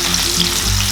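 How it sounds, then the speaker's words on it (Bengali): Potato pieces fry in hot oil in a pan, giving a loud, steady, close sizzle with no pauses. "প্রথমে আলুগুলো ভেজে নেব"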